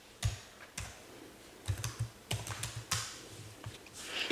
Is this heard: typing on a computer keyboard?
yes